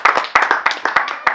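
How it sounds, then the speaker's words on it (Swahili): A church fellowship congregation claps together in a quick, steady rhythm, with sharp close hand claps evenly spaced and voices faintly underneath. "pigia Bwana Yesu makofi mazuri"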